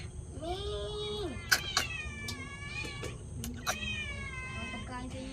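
Cats meow repeatedly indoors, several drawn-out, rising and wavering cries close to the microphone, interrupted by a few sharp knocks or clatters.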